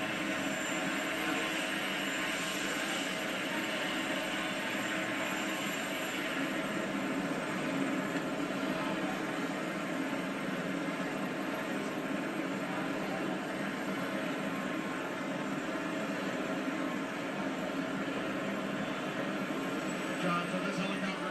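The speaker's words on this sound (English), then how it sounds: "this helicopter will take off for Joint Base Andrews" Presidential helicopter lifting off from the White House lawn, a steady loud rotor and turbine roar filling the whole stretch, heard from a distance with voices faintly underneath.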